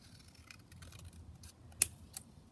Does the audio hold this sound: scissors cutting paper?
yes